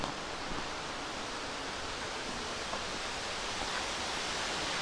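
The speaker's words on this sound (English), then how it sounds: "There's a big waterfall" A big waterfall in Kikuchi Gorge, Aso Kuju National Park, Kumamoto, gives a steady, dense broadband rush of falling water that stays even throughout with no voices.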